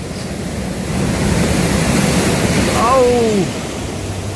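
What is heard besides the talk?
large ocean waves crashing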